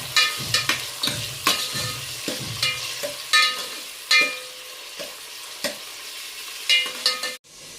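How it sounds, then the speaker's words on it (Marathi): Chopped tomato sizzles in a hot pan for a spicy mutton curry while a spoon stirs it, with repeated sharp scraping clacks against the pan over a steady frying hiss, close and moderately loud, with no talking. "आपण चिरून ठेवलेला टमाटा टाकूया आणि चांगलं मिक्स करून इकडे परतून घेऊया"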